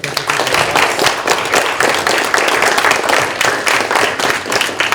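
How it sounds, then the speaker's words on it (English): An audience at a fireside chat on purpose-driven business applauds, producing dense, continuous clapping from a sizable crowd that stays fairly loud and steady. "Round of applause for Ms. Svoren."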